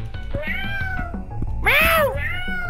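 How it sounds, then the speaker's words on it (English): A cat meows in a video game, several short mid-pitched meows over a background game tune, followed by one louder, longer meow near the end. "Meow."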